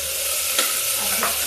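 Ginger-garlic paste frying in hot oil in a pan, a steady close sizzle with two brief stirring scrapes, no voices.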